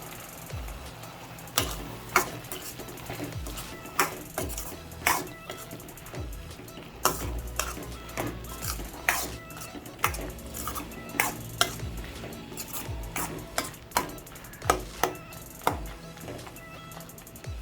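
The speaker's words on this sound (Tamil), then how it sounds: "ஒரு 5 மினிட்ஸ் சுண்டக்காய் எண்ணெயில் வதங்கட்டும்" Green turkey berries sauté in oil with softened tomato and onion for a puli kulambu, and a spoon stirs them with repeated clanking scrapes against the pan over a low, steady sizzle.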